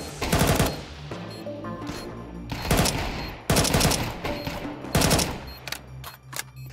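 AK rifle gunfire in Counter-Strike 2 during a BLAST Fall Final 2024 match: loud, close, rapid automatic bursts in several separate strings, with short gaps between them.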